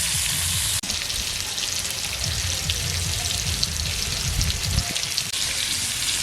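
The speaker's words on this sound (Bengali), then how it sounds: "পেঁপেগুলো ভাজা হয়ে গেছে" Papaya pieces frying in hot oil in a village kitchen, with a loud, dense, continuous sizzle and crackle that runs steadily throughout, close up and without talk.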